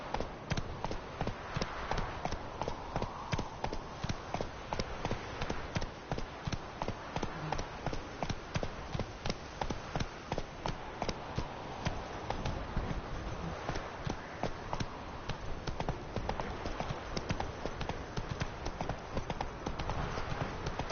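Roach the horse gallops in The Witcher 3, a fast, steady clip-clop of hooves repeating rhythmically throughout, close and continuous.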